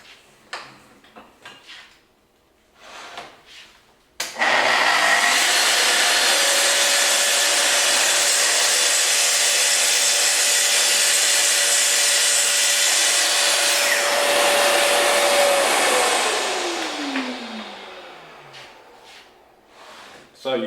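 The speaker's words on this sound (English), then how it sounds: "we have a fine splinter-free cut on melamine surface using the TS55" A Festool TS55 REBQ plunge cut saw slices through melamine board with a loud, steady whine and cutting roar lasting about twelve seconds, then spins down with a falling tone as the blade slows.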